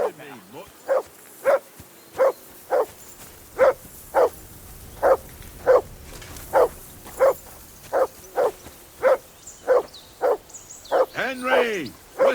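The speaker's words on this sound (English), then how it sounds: "Whistle at that mutt of yours to stop barking." Henry's dog Mutt barks over and over in Kingdom Come Deliverance II, about eighteen loud, evenly spaced woofs at roughly two per second, with a voice speaking faintly at the end.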